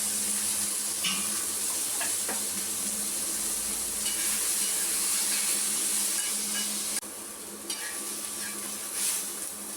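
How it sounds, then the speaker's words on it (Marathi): Onion and tomato fry in oil with a steady, close sizzle, broken by light scraping and ticking as the pan is stirred. No one speaks. "कांदा आणि टोमॅटो भाजून घेऊ। थोडंसं तेल टाकूया।"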